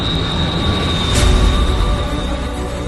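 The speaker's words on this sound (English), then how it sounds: "Idlewild Tower, clear for takeoff, 31 left." An Air India jet roars on its takeoff run on runway 31 left at Idlewild, a steady, loud, broadband engine rumble with a high whine, swelling briefly midway, with no voices.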